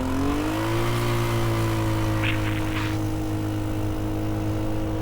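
A Motobravo Roma 150cc scooter engine idling after carburetor adjustment, a steady close droning hum whose pitch rises briefly at the start and then settles into an even idle.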